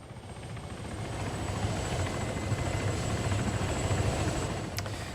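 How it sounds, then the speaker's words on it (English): Helicopter in the video game Arma 3, a steady rotor thump and engine drone that swells slightly and holds at moderate loudness throughout, with no talking. "here's the main force coming in, and they have also got heli support"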